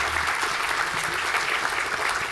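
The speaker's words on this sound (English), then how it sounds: "Let's give them a round of applause." Audience at The Web Conference 2019 opening ceremony applauds steadily, a dense, sustained wash of clapping from a large crowd filling the hall without any talk over it.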